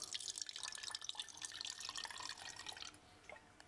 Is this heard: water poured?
yes